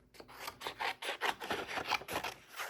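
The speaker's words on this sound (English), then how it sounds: "I'm just trimming those so I can cut them out." Paper pieces being trimmed with a craft tool before die cutting, a quiet rhythmic rasping and rubbing repeated in quick strokes, close and soft with no voices.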